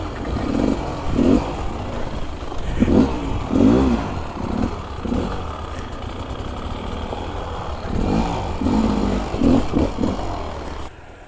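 Enduro motorcycle working its way downhill past a tree on a rough trail, the engine blipping and revving in short bursts between low idling, with clattering from the bike, fairly close.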